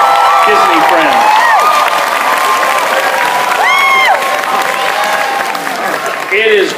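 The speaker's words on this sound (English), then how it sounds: "can we give a great round of applause for Merlin, Mickey, Minnie, Donald, Goofy, and all our Disney friends" Audience at a music festival clapping and cheering for costumed Disney characters, loud continuous applause with scattered whoops and high shouts rising over the crowd noise.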